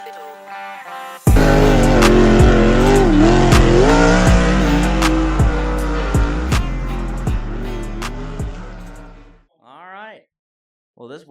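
Race cars roaring past on a racetrack during a race, a loud sustained engine drone with repeated sharp passes, fading out before a brief voice near the end.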